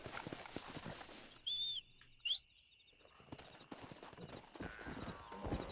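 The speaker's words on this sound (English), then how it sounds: "Are you still riding that stolen horse?" Hooves of a stolen horse clip-clop in Red Dead Redemption, a quick steady rhythm interrupted by sharp whistle-like tones and a pause, then resuming under a noisy game mix.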